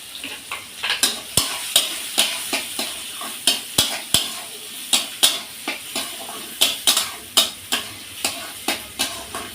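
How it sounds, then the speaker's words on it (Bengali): Chopped onion and garlic sizzle steadily in hot oil while a spoon scrapes and clicks against the pan in a quick, irregular rhythm. "আমি পেঁয়াজ কুচানো আর রসুন কুচানোটা এর ভিতরে দিয়ে দিচ্ছি।"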